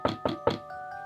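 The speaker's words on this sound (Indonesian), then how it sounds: "larut malam gini kok ada yang ngetok pintu?" Three sharp knocks on a door come in quick succession as a sound effect in a late-night horror story, followed by a faint sustained tone.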